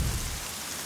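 A short burst of heavy rain hisses evenly, with a brief low thump at the start that fades into a steady downpour.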